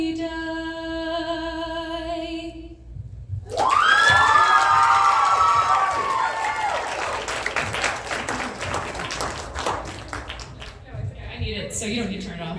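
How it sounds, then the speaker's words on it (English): An audience at a cabaret bursts into loud applause and cheering with shouts and whoops after a sung note ends, the clapping holding strong for several seconds before tapering off. "One more round of applause for Callista, please."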